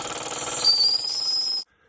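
A Wilesco D8 toy steam engine runs with a rapid mechanical chatter and a thin high whistle-like tone, loud and close, cutting off abruptly into near silence.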